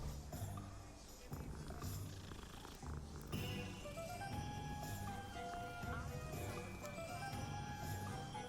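Soft, continuous purring from a cat in Hogwarts Legacy, a low rumbling texture running under game music and ambience, with no break across the stretch.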